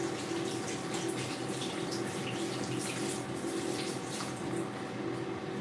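Tap water runs steadily into a sink as hands are washed in a home kitchen during roast cooking, a continuous close broadband splash with no talking.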